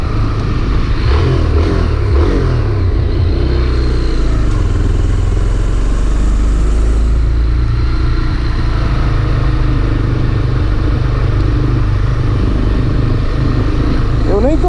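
A parked motorcycle with an engine making a strange noise, idling steadily with a low, rumbling drone throughout, close and loud, while someone talks over it.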